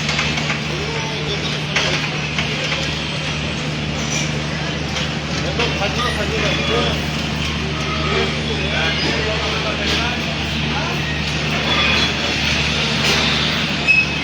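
A train at Pirganj railway station hums and rumbles with a steady low drone and rattling carriage noise throughout, while people talk nearby over it.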